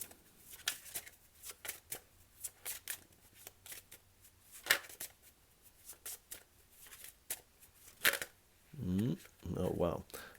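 Tarot cards are shuffled in a series of quick, close riffling snaps and flutters, with short pauses between bursts, ending in a couple of louder, longer shuffles.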